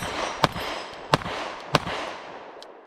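A Gen 5 Glock 19X pistol fires from low ready in three sharp, loud gunshots roughly evenly spaced, each followed by a short echoing tail in an outdoor setting.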